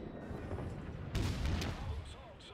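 Naval gunfire in the game World of Warships, from a St. Louis cruiser, sounds as a deep rumbling boom that swells midway and rolls on, loud and close, with no one talking over it.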